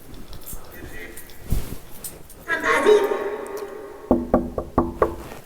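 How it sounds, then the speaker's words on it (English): Knuckles rap on a wooden door inside an old manor during a nighttime investigation, a quick series of sharp, close knocks near the end after quieter rustling and a brief vocal sound. "I just knocked on Rebecca's door."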